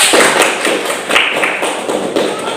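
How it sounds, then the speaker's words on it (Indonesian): Children and their teacher in an elementary school classroom clap loudly and up close in a patterned rhythm, with several sharp bursts of claps spaced through the span. "Tepuk tangan untuk kita semua dulu"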